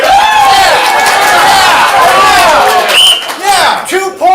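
Audience at a ComedySportz Portland improv comedy match responding loudly, a dense, sustained wash of crowd noise, clapping and voices with cheering and whoops, fairly close and continuous before dipping briefly near the end.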